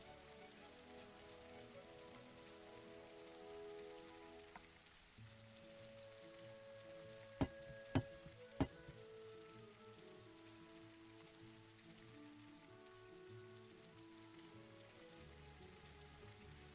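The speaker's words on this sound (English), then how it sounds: "The rain is so peaceful and lovely." Steady, soft rainfall patters in the cozy video game Teddy's Haven, a continuous gentle wash with a few brief sharp clicks partway through and no voices.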